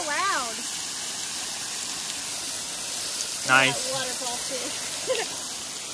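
A loud mountain waterfall roars as a steady, unbroken rush of white water heard from close underneath it, while a person briefly speaks over the din.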